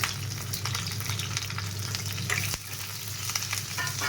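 Garlic and ginger pieces fry in hot oil with a steady, dense sizzle and crackle that holds its level throughout, with no voices.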